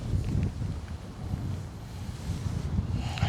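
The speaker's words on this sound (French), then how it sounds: "Il y a beaucoup de vent." Strong wind buffets the microphone outdoors, a low, continuous rumbling roar that swells and eases in gusts, with faint knocks underneath.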